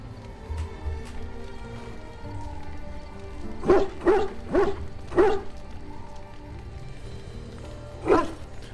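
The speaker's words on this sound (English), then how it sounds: "that's the dog in the background" The dog companion in Dragon Age: Origins barks five times in a quick cluster, then once more after a pause. The barks come over a soft rain-like ambient bed and are heard fairly close.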